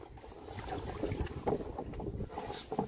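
Steady outdoor wind gusts buffeting the microphone by the water during stone hunting, a continuous low rumble that swells and eases with no voices heard.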